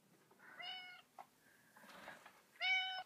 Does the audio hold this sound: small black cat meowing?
yes